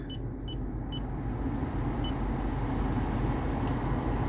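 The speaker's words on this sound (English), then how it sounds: "So we're gonna turn up the AC real quick." Steady broadband fan blowing from the air conditioning of a 2017 Lexus GX 460 cabin turned up, rising slightly in level, with a few short electronic beeps early on and no talking.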